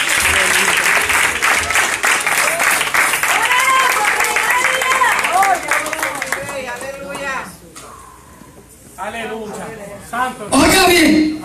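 Loud, dense applause from an evangelical church congregation, sustained and close, with cheering and voices mixed in, thinning out midway before a short burst of louder sound near the end.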